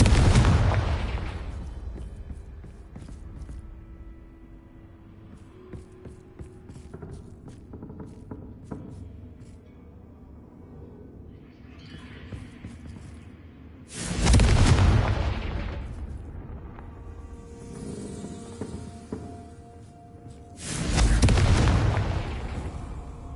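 Confringo fire spells in Hogwarts Legacy burst as three loud, booming explosions, one at the start and two more several seconds apart near the end, separated by quieter stretches of ambient rumble and faint footsteps.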